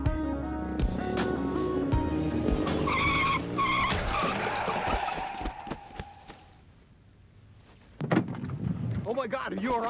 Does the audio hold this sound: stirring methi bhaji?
no